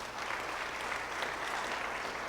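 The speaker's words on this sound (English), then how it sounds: "let's give them a hand for all that they are doing" An audience at a Berkley State of the Cities event claps steadily in a dense, even round of applause that carries on without a break.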